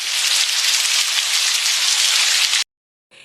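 Dense rain patters loudly and evenly on a surface, then cuts off abruptly, with a short final burst after a moment of silence.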